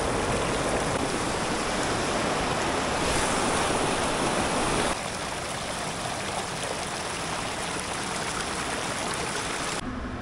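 Stream water rushes and splashes near a village on a cycling tour across India, a loud, steady, unbroken wash that eases slightly partway through, with no voices.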